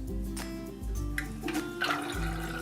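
Toy race cars churn through water in a tank, giving a continuous swishing, gurgling slosh with several surges. Light background tones run underneath and there is no talking.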